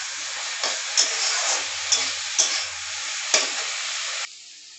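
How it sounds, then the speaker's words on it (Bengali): Sliced pointed gourd (potol) fries in oil in a pan, giving a loud, continuous sizzle with several sharp stirring scrapes and pops spaced through it, close up and alone, before the frying noise drops away at the end. "এর জন্য আমি শুধু ওখানে পটল ভাজা করতে আছি"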